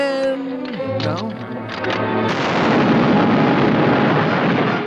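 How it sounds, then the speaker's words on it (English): An explosion in an old short film booms into a broad, loud roar after a falling whine and musical tones, the blast rumbling on to the end. "Wasn't that an explosion?"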